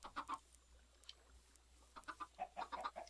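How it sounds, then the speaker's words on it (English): Little chickens in a Minecraft modpack world cluck and peep in short bursts, a few scattered calls early and then a quicker run of clucks near the end, fairly faint and close. "little chickens will try to get back to a mama chicken"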